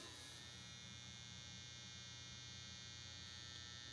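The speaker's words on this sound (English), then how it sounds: "I hear it humming." Steady electric hum from an EcoFlow Delta Pro Ultra battery backup unit, a continuous low drone with a faint high whine, close and constant throughout with no speech.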